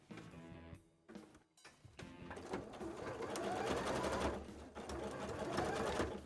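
A sewing machine stitches a wide zigzag on fabric, starting and stopping briefly, then running in a continuous, rapid mechanical whir.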